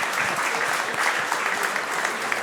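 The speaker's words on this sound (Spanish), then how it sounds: "nos encantaría por lo menos brindarle un buen aplauso que va a quedar grabado" An audience at a vascular medicine lecture bursts into steady, dense applause that carries evenly from start to finish with no speech over it.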